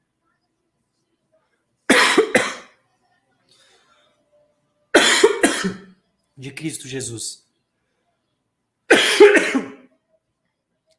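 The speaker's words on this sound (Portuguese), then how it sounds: "Desculpa, gente, tô com tosse." Four separate harsh coughs from a preacher, each short and close, spaced a few seconds apart in a quiet room, with a brief stretch of speech between two of them.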